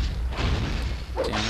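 Bombs exploding in the video game Maximo: Ghosts to Glory, a dense, continuous low booming rumble with steady loudness throughout and no one talking.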